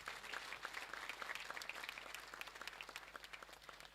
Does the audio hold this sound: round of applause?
yes